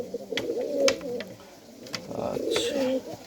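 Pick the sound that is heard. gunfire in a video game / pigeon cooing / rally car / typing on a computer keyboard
pigeon cooing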